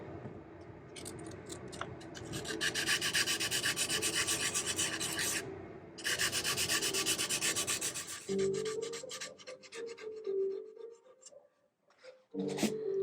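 Brisk back-and-forth sandpaper strokes rubbing over hard wood filler on a Gibson Les Paul Custom guitar headstock repair, close and dry in two long bursts, a brief pause between them, then softer scattered scrapes with faint tonal sounds.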